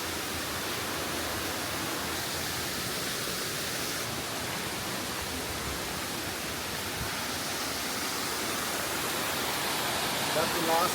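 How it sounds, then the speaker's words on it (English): A small waterfall on a river in Mayan King park, Belize, gives a steady rushing hiss at moderate distance, with faint voices showing briefly near the end. "That's the last mini waterfall right"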